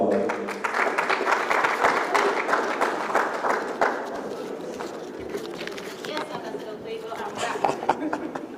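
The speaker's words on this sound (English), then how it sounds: "Please a round of applause for her." Audience applause at a Nigerian youth conference, dense clapping from a crowd that fades into scattered claps with murmuring voices underneath.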